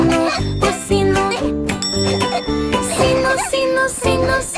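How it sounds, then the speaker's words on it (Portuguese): A small bell jingles repeatedly in a bright, rhythmic children's song with layered music; the ringing comes in short repeated strikes over the melody. "Eu escondi a campainha, din, din, din."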